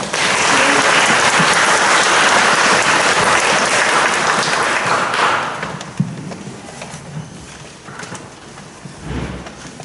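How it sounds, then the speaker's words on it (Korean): A church congregation applauds after hymns in a service, loud dense clapping for about six seconds that then thins to a few scattered claps and soft thumps in a quieter room. "우리 찬양들 다시 한번 박수할까요?"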